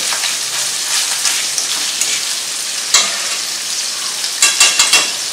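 Ground beef fries in a pan with a loud, continuous sizzle, broken by a few sharper pops and spatula scrapes toward the end.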